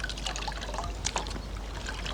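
A saponin-rich plant is washed in a bowl of water outdoors, giving close, continuous splashing and trickling with small sloshes as the material is worked. No one speaks over it.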